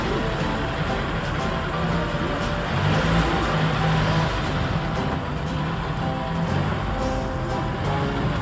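A line of Citroën cars passes by on a road, a steady broadband rumble of engines and tyres that holds at a constant level throughout with no clear gaps between vehicles.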